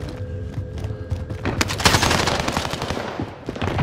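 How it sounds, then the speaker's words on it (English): Gunfire in Call of Duty: Warzone, a sustained barrage of rapid shots and bursts building in intensity after a quieter opening, loud and close with dense overlapping reports. "Taking direct fire!"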